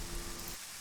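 Steady rain in the video game Green Project: a soft, dense, continuous hiss of falling drops with no voices, easing slightly toward the end.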